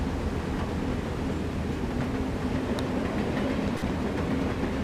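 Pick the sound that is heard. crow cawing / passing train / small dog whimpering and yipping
passing train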